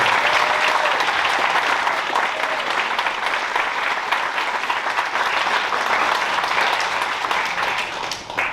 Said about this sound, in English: Let's give everybody that has gotten an award tonight one more big round of applause.